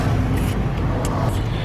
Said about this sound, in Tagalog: Maingay yung mga truck. Kasi naka-open lang yung aming window.